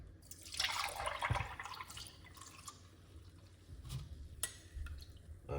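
Liquid is poured off from a mixture while a Guinness punch is being made, with dripping and splashing water near the microphone, soft and uneven with a few brief louder splashes.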